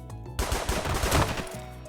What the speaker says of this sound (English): So I'm gonna start off light with a few revolver shots.